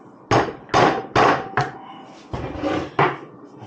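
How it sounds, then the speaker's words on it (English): A screwdriver is struck against the lip of a dust cap on a Walker Evans shock from a Polaris RZR Pro XP4 during a rebuild, giving about six loud, sharp metallic taps at uneven intervals, close up with no talking. "there's a little lip there you can hit against with the screwdriver"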